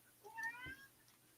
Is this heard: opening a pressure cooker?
no